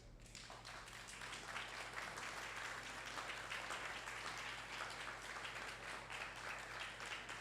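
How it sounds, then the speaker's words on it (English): A standing audience at a graduation ceremony bursts into applause, a faint, steady, crowded clapping that rises quickly at the start and continues evenly throughout, with a low hum underneath. "you need to stand and you need to give them a big round of applause"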